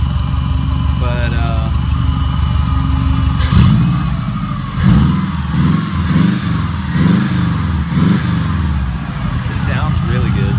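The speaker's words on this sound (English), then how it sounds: "Here's the engine idling." A Subaru BRAT-based car engine idling with a low, steady rumble and slight uneven stutters, with a wrong mass airflow sensor fitted, while a person talks over it.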